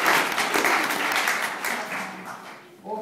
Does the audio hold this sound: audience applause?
yes